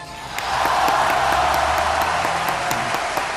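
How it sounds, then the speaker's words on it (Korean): A room full of people bursts into applause at a lively gathering, steady dense clapping rising after a brief quiet start and holding loud and close throughout, with scattered sharper hand claps standing out. "박수 박수"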